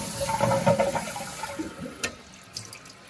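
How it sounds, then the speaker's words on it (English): A toilet flushing after a plumbing fix, loud rushing water for the first second and a half that fades to a gurgling refill, with a couple of brief clicks near the end. "give this bad boy a flush"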